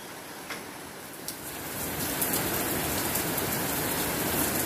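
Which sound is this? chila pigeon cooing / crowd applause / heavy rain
heavy rain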